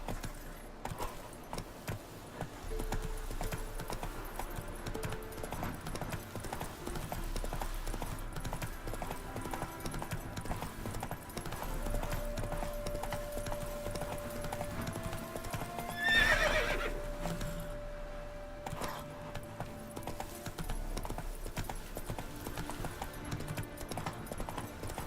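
Roach, the horse in The Witcher 3, gallops on and on in a long steady run, hoofbeats drumming beneath game music, and a loud neigh rises near the middle.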